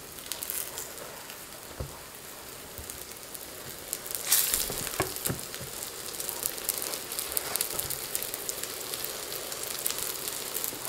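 Sesame paste flatbread sizzles steadily while pan-frying under a lid, a soft even hiss with occasional sharper crackles and pops, close and without talk.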